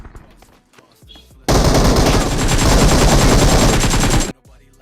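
Automatic gunfire in the mobile battle game BGMI erupts in a loud, sustained burst of rapid shots lasting about three seconds. Quieter game sounds come before and after it.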